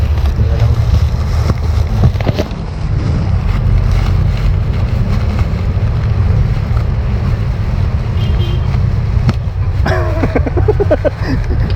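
Loud, constant low rumbling buffet of wind hitting the microphone, steady throughout with a few faint clicks and rustles.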